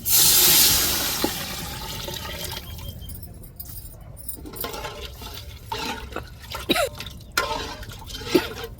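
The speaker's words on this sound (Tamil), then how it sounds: "கரைச்சி வச்ச புளி தண்ணியும் நம்ம அம்மியில் அரைச்ச தேங்காய் தண்ணியும் சேர்த்துக்கிடுவோம்" Tamarind water and coconut water pour into a pot with a gushing splash at first, then settle into softer trickles and scattered drips, close by.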